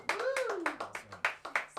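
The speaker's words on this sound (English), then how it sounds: "One more round of applause." Small live audience clapping for a singer-songwriter in a podcast studio, a handful of distinct close claps spaced across the moment while a speaking voice carries on over them.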